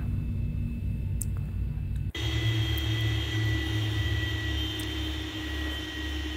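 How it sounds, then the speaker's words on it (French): Boeing 737-800 jet engines in the X-Plane 11 flight simulator, a steady whining drone with tonal hums that shifts abruptly midway to a broader rumbling hiss, continuing evenly without speech. "Voilà, les moteurs s'arrêtent."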